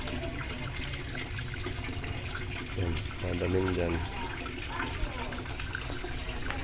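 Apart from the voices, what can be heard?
water flowing through a fish pond water filter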